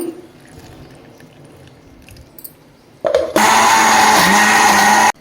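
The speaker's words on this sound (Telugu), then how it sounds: "ఇప్పుడు మిక్సీకి వేసుకోవాలి" After a few seconds of quiet handling and faint clinks, a kitchen mixer grinder roars on loudly, blending raw tamarind with green chillies, salt and a little water in a steady whir that stops abruptly at the end.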